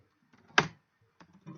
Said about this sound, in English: my typing is not the best